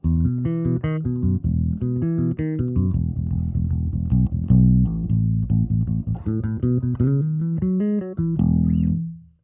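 Deep, full electric bass through modeled 8x10 and 4x10 SV bass cabs with an M88 mic on a Fractal unit, punchy, defined notes played steadily for several seconds, ending on a sustained note that fades out.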